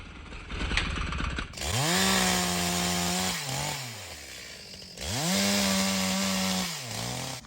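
A chainsaw revs up and bites into wood twice in long, loud cuts, the engine note dropping under load and easing between passes. The saw is close, the cuts come one after another, and no one speaks.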